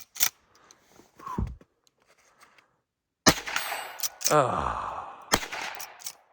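A .357 Magnum lever-action rifle fired at a shooting range: a few sharp, loud cracks spaced a second or two apart, with brief voices and movement noise between them.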